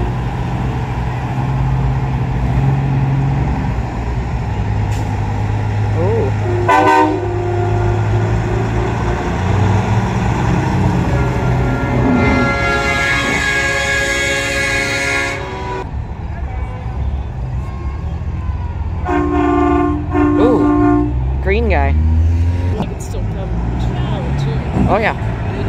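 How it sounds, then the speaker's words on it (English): Train horns mounted on trucks during a night truck show parade and convoy, loud sustained multi-tone horn blasts sounding repeatedly over rumbling engines and crowd noise, with people talking throughout. "These are all train horns."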